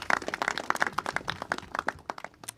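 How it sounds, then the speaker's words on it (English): A crowd at an MTA news conference applauds the project team behind a revitalized, ADA-accessible platform shelter, with dense, steady clapping that carries on through the whole moment without letting up. "So let's have a round of applause for the fantastic project team."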